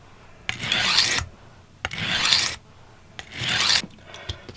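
A kitchen knife blade is drawn across a wet whetstone in three separate rasping strokes, each about a second long with short pauses between them. The strokes are close and clear, with no voices.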